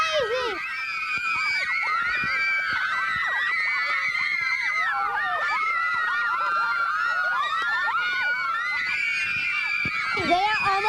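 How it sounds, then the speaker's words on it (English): Crowd of children at a kids' team game screaming and cheering wildly, a dense, continuous roar of shrill shouts and squeals that stays loud throughout, swelling again near the end. "The crowd is going crazy."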